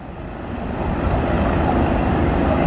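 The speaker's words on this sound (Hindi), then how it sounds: "ये हेलीकॉप्टर भी आया है" Helicopter arriving over a large crowd of pilgrims at Jamarat, a loud, steady rotor and engine roar that swells slightly as it draws nearer, with no voices over it.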